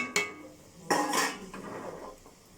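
A big metal lid is set onto a cooking pot, giving a sharp clink followed by a louder clattering clank and a brief rattle as it settles, close and clear with no talking.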